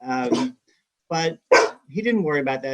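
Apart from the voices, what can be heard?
dog barking in the background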